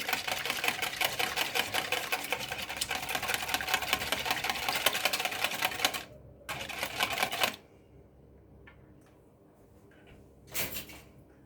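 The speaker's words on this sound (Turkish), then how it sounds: "Yumurtamızı kırıyoruz. Şöyle güzelce çırpıyoruz." An egg is whisked in a bowl for a leek börek, a rapid, dense rattling of utensil against the bowl that runs steadily, then stops and starts in shorter bursts before a final brief flurry.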